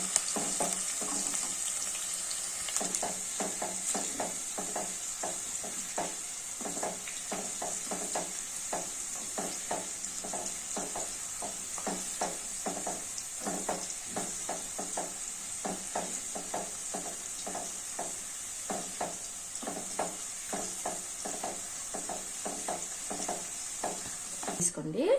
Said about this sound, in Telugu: నాకు ఇచ్చేటప్పుడు కొంచెం ఎర్రగా వేయించుకోవాలండి. ఎల్లిపాయ బాగుంటుంది.